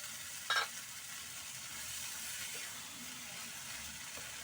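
Ground coriander leaf paste going into a hot pan, a steady sizzle and hiss close by, opening with a short sharp clack and staying fairly even, without speech.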